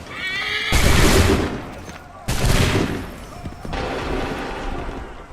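Musket volley gunfire from Assassin's Creed 3, two massive broadband blasts about a second and a half apart, each trailing into a long rolling rumble, with a horse whinny and faint voices in the background.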